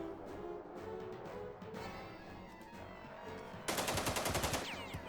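AK rifle fire in the Jagged Alliance 2 video game, a sharp rapid burst of automatic shots near the end over a steady, busy game soundscape, with no talk.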